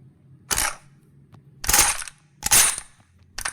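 A World War 2 gun being fired, four sharp close shots spaced about a second apart, each a crisp crack with a short mechanical tail against a quiet background hum.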